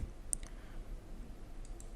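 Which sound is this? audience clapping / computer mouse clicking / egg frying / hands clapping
computer mouse clicking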